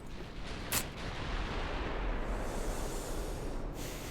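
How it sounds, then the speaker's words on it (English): A torpedo strikes a warship in the naval video game Ultimate Admiral: Dreadnoughts, a faint, dull explosive rumble that lingers as a steady roar, with two brief sharper cracks. "We just ate a torpedo."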